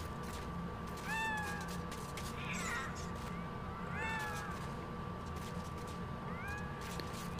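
Several cat meows from the PS4 game MediEvil, a handful of rising, drawn-out calls spaced across the stretch over a steady game background hum.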